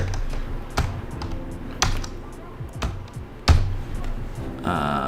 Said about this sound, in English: I'm gonna type that in up here